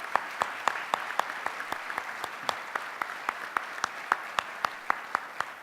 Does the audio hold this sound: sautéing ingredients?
no